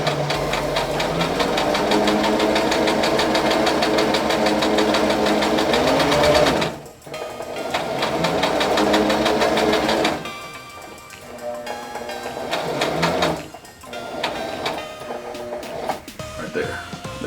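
A sewing machine stitching fabric for homemade masks, loud rapid mechanical chatter in long runs broken by brief pauses, with a person talking over it.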